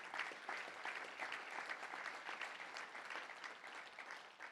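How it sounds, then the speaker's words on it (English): A Little Rock touchdown club audience applauds steadily, a dense even wash of many hands clapping at moderate distance for about four seconds with no voices rising above it. "Let's give them a round of applause."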